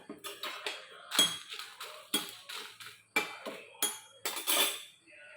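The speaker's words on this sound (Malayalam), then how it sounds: "ഇനി നമുക്ക് മുളക് വറുത്തെടുക്കാം." Chillies roasting in a pan, a spoon scraping and knocking against the metal in repeated close strokes, with clinks and no talk.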